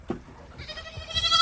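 A goat bleats close by in a rural outdoor setting, a wavering nasal cry that swells and grows louder toward the end, over low background rumble.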